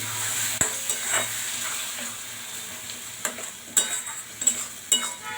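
Spice paste for masala chickpeas fries quietly in a pan, stirred with a utensil that scrapes and knocks against the metal in several distinct clacks over a steady low sizzle, with no one talking.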